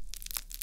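Plastic wrapping inside a SHEIN package crinkles in short, faint bursts, a crackly rustle rather like food frying, with no voice over it.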